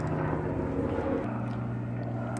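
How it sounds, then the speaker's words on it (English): A steady mechanical drone with a low, throbbing hum, like a helicopter passing at a distance, the pitch shifting partway through. No voices. "I was letting a helicopter go by"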